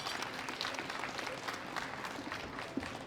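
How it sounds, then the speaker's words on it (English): An audience claps steadily and evenly for junior women lifters, 43–52 kg, at the World Classic Powerlifting Championships 2017. The applause is a dense, continuous sound, fairly soft and heard from a distance, with no voices standing out. "Big round of applause to these ladies."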